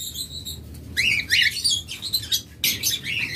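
Caged cockatiels call at a pet bird sale, giving sharp chirps and shrill squawks in quick bursts, close by, with a bed of other birds chattering in the background.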